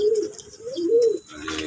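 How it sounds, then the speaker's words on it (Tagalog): A racing pigeon coos nearby in a few low, rolling phrases, soft and throaty, with faint background noise. "nahuli na natin yung ating isang kalapati"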